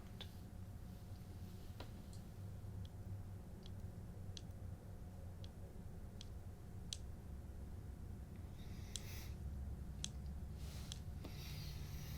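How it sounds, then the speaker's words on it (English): Crisp, sparse clicks of tea packaging or porcelain during a purple tea unboxing tick out at irregular intervals, close and delicate over a steady soft hiss, with no voices. "pleasant clicking sound."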